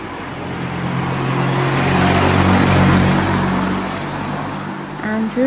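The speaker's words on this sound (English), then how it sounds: "I don't know if you noticed that car going by and the car that went by before are driving on the left hand side of the road" A car drives by on a country road beside a farm, its tyre and engine noise swelling to a peak midway and then fading as it passes.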